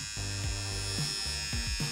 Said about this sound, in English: This is a nose, ear, and hair trimmer.